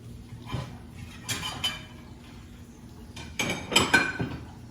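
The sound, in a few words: thick plates being handled and clinking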